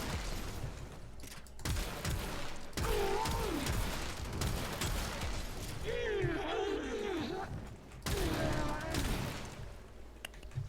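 The Shedu, a primary weapon in the video game Warframe, fires in sustained bursts with a dense, continuous roar, broken by short gaps, while a voice talks over it.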